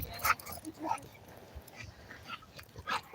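Dogs playing together, with short whimpers and yips in scattered bursts, fairly close, over a low rumbling background.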